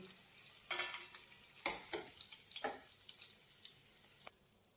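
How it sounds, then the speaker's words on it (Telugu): Boiled eggs frying in oil in a pan for egg curry: a quiet steady sizzle broken by several bursts of spatter and scraping as the eggs are turned, close by, no voices. "ఇలాగ గుడ్లన్నీ కొద్దిసేపు వేయించుకున్న తర్వాత"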